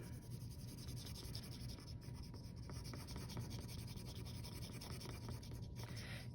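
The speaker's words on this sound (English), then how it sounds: "And I'm gonna color my tree." Crayon or marker coloring a drawing on paper, a steady scratchy rubbing that runs continuously and close up with no talk.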